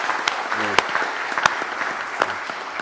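A church seminar audience claps in thanks to a visiting doctor, a short spell of mixed applause with a few sharp louder claps over a voice speaking.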